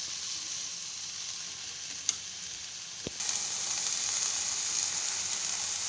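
Ponaganti leaves (ponnaganti greens) wilting and cooking down in a pan make a steady, even sizzle and hiss throughout, with a brief tap near the middle and the frying growing slightly louder toward the end.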